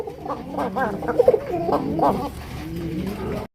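Large yellow pigeons at a pigeon seller coo in throaty, warbling bursts, close and fairly loud, with several quick coos in the first two seconds before the sound fades.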